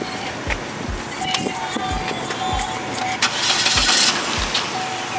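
A car engine cranks and catches, with short bursts and clicks over a steady low rumble, fairly close.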